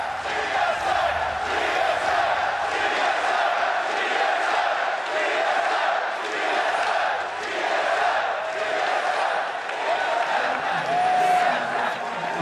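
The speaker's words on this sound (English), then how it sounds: "Sometimes you have to take a step back and appreciate the crowd." A large esports arena crowd at the 2016 League of Legends World Championship group stage, TSM versus Samsung Galaxy, roars and cheers in a loud, sustained wash of voices.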